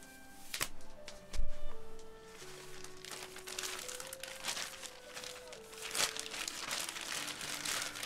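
A plastic bag crinkles with soft rustles and crunches under a steady electronic tone, fairly quiet and close.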